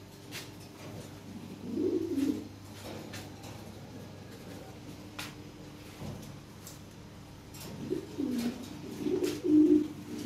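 Lahore Siraji pigeons cooing in two soft bursts of throaty, rolling coos, close but quiet, over a low steady background hum.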